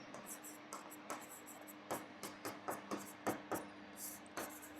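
Writing on a board during a maths lesson, a series of short scratchy strokes in a steady rhythm, close and soft over a faint room hum, with no talking.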